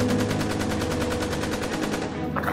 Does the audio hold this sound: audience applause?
no